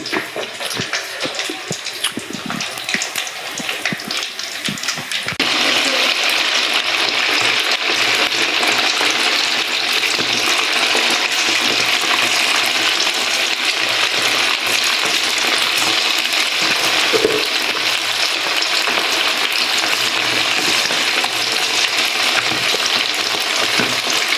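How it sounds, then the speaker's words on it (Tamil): Chicken chilli fries in a pan with a loud, continuous sizzle; after a quieter, uneven opening with a few stirs, the hiss jumps up and holds steady. "இப்போ தான் சில்லி வெந்துட்டு இருக்குது."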